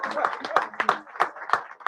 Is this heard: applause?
yes